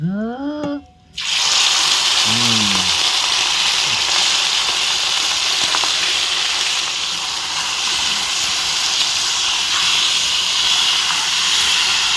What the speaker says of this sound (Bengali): এবার এর মধ্যে ম্যারিনেট করা মাংসগুলো দিয়ে দেবো।